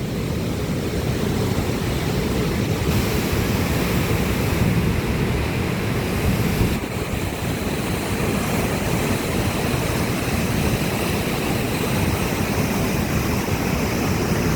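A loud, steady roar of rushing water fills the whole stretch, broad and unbroken, like a swollen river pouring nearby, at the Probiy waterfall in Yaremche.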